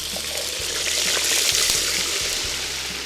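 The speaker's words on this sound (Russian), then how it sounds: "Третья партия у нас дожаривается." Pelmeni dumplings fry in a kazan over a campfire with a continuous loud hiss and sizzle, close and unbroken, under a low steady rumble.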